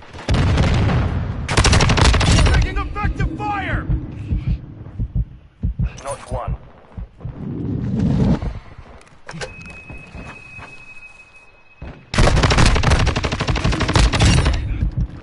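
Bursts of rapid automatic gunfire from Modern Warfare 2 campaign combat, loud and sustained in several long volleys separated by quieter stretches with softer effects and a steady tone.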